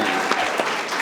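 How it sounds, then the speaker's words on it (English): An audience in a conference room at a nonprofit governance symposium claps in a steady, dense burst of applause, loud and close, lasting about a second. "Now clap your hands."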